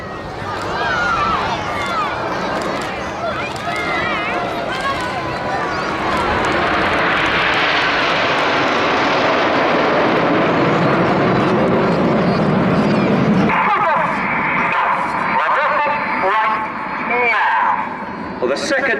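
Red Arrows display jets sweep past at an armed forces day in Cleethorpes, trailing red and white smoke in a Typhoon-shaped formation. A loud, sustained jet roar swells toward the middle and then fades, with a commentator talking over it throughout.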